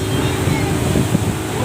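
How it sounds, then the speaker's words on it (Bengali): A speedboat races across open sea near Coral Island, Pattaya, with a loud, constant roar of wind and water rushing past close to the microphone. "অনেক স্পিড, বিশাল জোরে এখন বোট চলছে আমাদের।"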